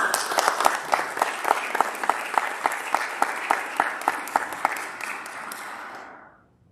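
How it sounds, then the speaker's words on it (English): An audience at a Wednesday morning gathering of a county veterans service agency applauds to welcome a speaker. The clapping is steady and full, with a few sharper claps standing out, then fades away near the end. "give Kevin a round of applause and welcome him to the Wednesday morning round"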